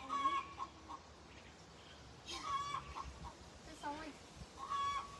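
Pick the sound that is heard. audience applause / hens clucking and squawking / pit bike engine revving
hens clucking and squawking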